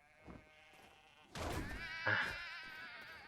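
Sheep bleat in a video game: a short bleat, then a louder, longer wavering bleat close by, with faint ambient hum behind and no talk.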